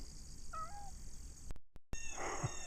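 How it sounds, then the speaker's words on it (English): A cat gives a short meow once, faint against an outdoor background with a brief dropout of sound afterward; nobody speaks. "The cat."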